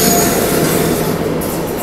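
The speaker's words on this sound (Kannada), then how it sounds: "ಕೊಯಂಬತ್ತೂರು ಎಕ್ಸ್ಪ್ರೆಸ್ ಇದು." An Indian Railways Coimbatore Express hauled by a WAP-7 electric locomotive rolls past at close range, a loud steady rush of wheels and carriages with a faint squeal of wheels on rail throughout.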